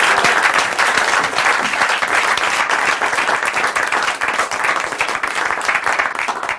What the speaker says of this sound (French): on les applaudit vraiment super fort